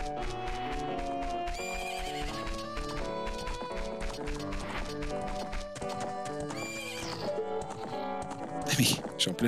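Horses neighing and hooves clip-clopping in a Zelda: Ocarina of Time Master Quest game scene, steady galloping over layered game music, with a loud whinny near the end.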